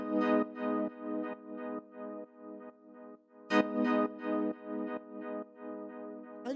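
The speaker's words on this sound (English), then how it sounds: "Next thing we have here is the stab, which sounds like this." Techno synth stab with delay and reverb: a run of short, bright, distorted chordal hits repeating in an uneven rhythm, each trailing into echoes, with a louder accented burst midway, heard alone.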